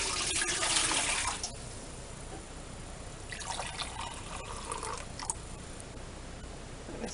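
Warm water pours into a bowl for making bread dough the early-1900s way: a splashing stream at first, then quieter trickling and dripping, with a second burst of pouring before fading to faint drips.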